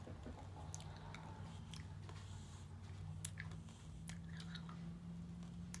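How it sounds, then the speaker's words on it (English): A five-year-old chews gum for the first time, producing soft wet squishes and small clicks in an irregular rhythm, close and quiet over a low steady hum. "You chew it."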